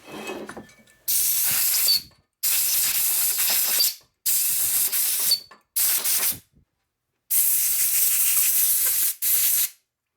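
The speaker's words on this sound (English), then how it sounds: "we'll go ahead and blow that hole out like we did the other one again" Compressed air blasts through a threaded hole in a 1951 Panhead engine case, coming as five or six loud, harsh hissing bursts of a second or so each, separated by short silent pauses.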